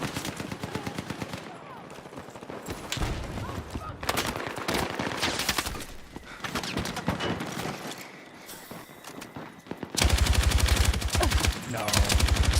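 A light machine gun fires long, rapid bursts in a video game battle, loud and close with dense rattling volleys that pause briefly and resume, while other battlefield noise and voices sound underneath.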